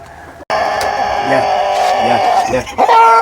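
A Denizli rooster crows loudly and close by in a long sustained call, with farmyard noise and a brief second call at the end.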